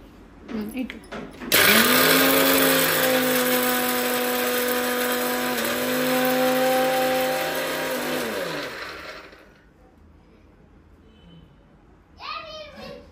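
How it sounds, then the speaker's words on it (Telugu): A kitchen mixer grinder whirs loudly for several seconds, coarsely grinding fried lentils for chutney, its motor pitch shifting as the load churns before it stops, with a voice briefly heard before and after. "అవన్నీ ఫస్ట్ మిక్సీ పడదాం."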